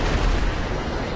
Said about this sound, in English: Whoever the heck is using cannons to shoot down jets